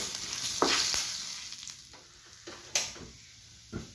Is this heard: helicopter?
no